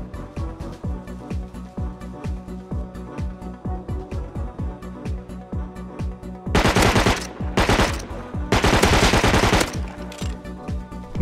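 Rapid automatic gunfire in the survival video game Rust rattles out in steady, evenly spaced shots, loud and close, with two denser, harsher bursts near the end.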